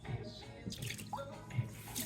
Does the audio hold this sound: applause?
no